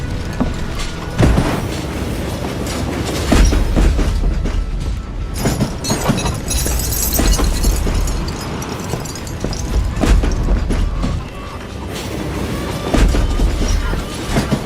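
A moving train in the Western video game Call of Juarez Gunslinger gives a steady, loud rumble with rhythmic clanks and thuds running through the whole stretch, with no voices.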